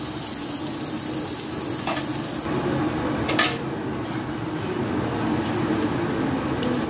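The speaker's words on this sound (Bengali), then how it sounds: "একটা মিডিয়াম সাইজের পেঁয়াজ আর 2-3 কোয়া রসুন আমি এখানে কুচিয়ে নিয়েছি, সেটা দিয়ে ভালো করে সব কিছু ভেজে নেব।" Chopped onion and garlic fry with spices in a pan for lentil dal, a steady close sizzle with a few light clinks and stirring scrapes of a utensil.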